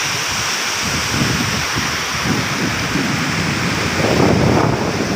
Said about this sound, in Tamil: அழகு நீரோட்டமானது பாருங்கள் சும்மா சுழட்டி சுழட்டி சுழற்சி முறையில் போயிட்டுருக்கு